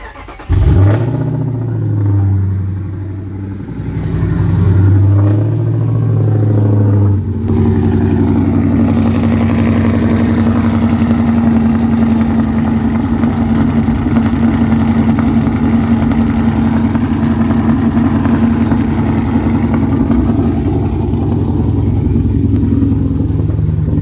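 A 5.7 Hemi engine cold-starts with a loud crank and catch, revs sharply a couple of times, then settles into a steady, rumbling high idle that runs alone and close for the rest of the clip.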